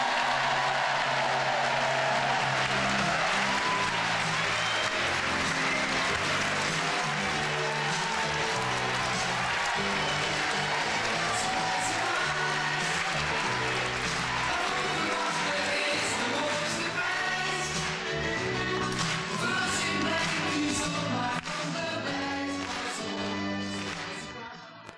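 A studio audience claps and cheers before a television show, warmed up by a crowd warm-up host; dense, steady applause fills the room for the whole stretch, fading slightly at the very end.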